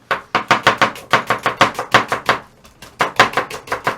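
A knife chops food on a board in quick, even strokes, about five per second, close and loud, with a short pause before the chopping resumes.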